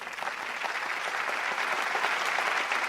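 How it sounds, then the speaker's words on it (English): Audience applause at an annual mathematics awards ceremony, steady dense clapping sustained throughout without pause, fairly close and even in loudness. "please give him another round of applause"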